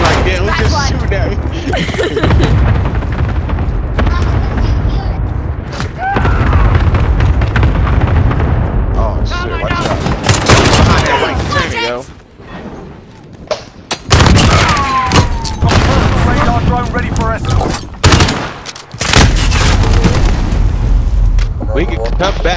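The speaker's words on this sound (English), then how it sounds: "Allied cluster strike inbound." An allied cluster strike in a shooter video game sets off a barrage of booming explosions mixed with bursts of gunfire, loud and chaotic, with players talking over the din.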